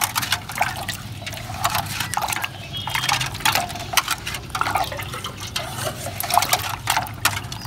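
Rice-water fertilizer mixed with sugar being poured into an empty reused drinking-water container, a continuous splashing, gurgling stream at close range.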